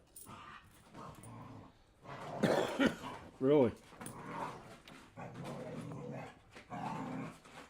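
Dogs play around nearby, barking and growling in short bursts between human talk, close and lively.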